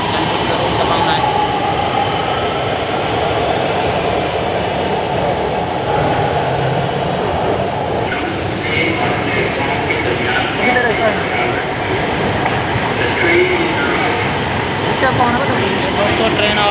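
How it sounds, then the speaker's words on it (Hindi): A train arrives with a broad, continuous rumble and rattle of rail cars that stays steady throughout, with faint voices beneath it. "ट्रेन आ गई है।"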